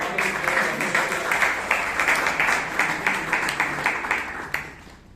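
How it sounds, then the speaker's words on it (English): Audience at a Toastmasters club meeting in Bangalore clapping, a moderate steady patter of many hands with sharp individual claps, holding level before fading out near the end. "Gentlemen, ladies and Toastmasters, round of applause for the"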